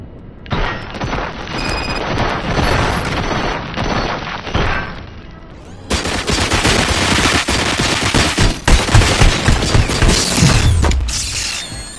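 Loud, sustained automatic gunfire from the RoboCop: Rogue City video game, with rapid bursts, mechanical clatter and heavy booms that fill the whole stretch after a brief lull.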